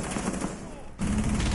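Suppressed gunfire in Rainbow Six Siege, a quick burst of muffled shots cracking close by, with a short gap and then dense firing resuming, among game sounds and faint talk.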